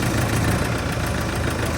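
Engine of a Bandit 15XPC wood chipper running loud and close as its clutch catches, a steady rough idle-like drone with a faint knocking pulse, no talk.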